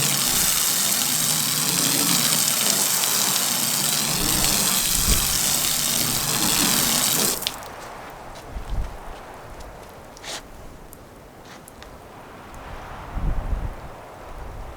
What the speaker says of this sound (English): Let's flood it out one more time.